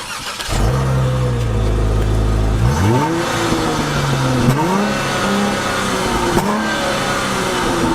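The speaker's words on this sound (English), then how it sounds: "Let's hear the exhaust note, because even though it's a V6, it's got kind of a throaty sound." A 2020 Dodge Charger GT with a V6 engine cranks and fires up, settling into a steady idle, then takes a few quick revs that rise and fall, heard close and loud without talk.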